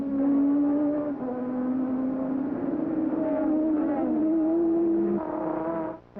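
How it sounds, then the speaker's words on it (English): Formula 1 race cars of the 1985 Canadian Grand Prix circuit the track, their engines a loud, continuous high-pitched whine that shifts in pitch as cars pass, with no break for the full stretch. "The leader, the number 27 Ferrari of Michele Alboreto, as he is now pursued by DeAngelis in second"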